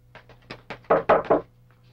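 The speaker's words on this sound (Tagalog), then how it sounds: "Kanina pa kami kumakatok." Knuckles rap on a door in a quick series of about seven knocks, the first few light and the last three heavier and louder, close by with no voices.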